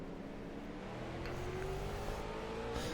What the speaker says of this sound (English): as you can hear them cars roar to life.